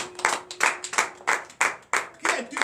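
Congregation clapping in rhythm during a morning prayer service in Benin, about seven sharp, evenly spaced claps with a faint voice beneath.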